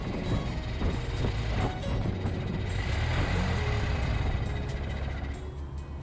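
A Model T Ford driving at night on the way back to camp at Petit Jean State Park, Arkansas, giving a steady, loud engine rumble with road noise that runs unbroken throughout, with no talking.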